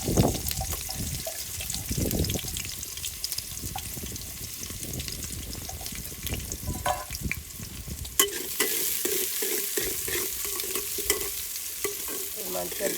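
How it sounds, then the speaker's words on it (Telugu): Onions frying in hot oil are stirred continuously, giving a close, crackling sizzle under repeated scraping and sloshing spoon strokes, with bursts of louder spattering partway through. "మంచిగా బ్రౌన్ కలర్ వచ్చినాక ఫ్రై కావాలి."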